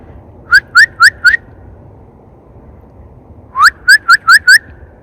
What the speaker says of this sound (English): Mouth is a little dry, but I'm going to try to whistle.